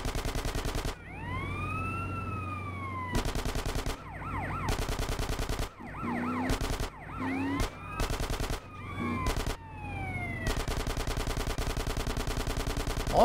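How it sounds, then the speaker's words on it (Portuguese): Rapid machine-gun bursts fired at an ambulance in GTA San Andreas, loud repeated blasts alternating with short gaps where a wailing emergency siren sweeps up and down, with no talk. "Eu vou atirar, Zé."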